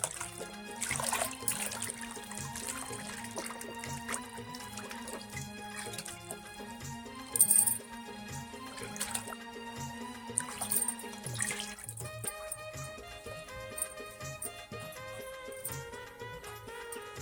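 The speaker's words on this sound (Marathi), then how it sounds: "आता ही भांडी आपण पाण्यामध्ये धुवून घेणार आहोत टप्पामध्ये मी पाणी घेतलेलं आहे" Clay cooking pots are washed in a tub of water, with intermittent splashing, trickling and dripping heard close up over steady background music.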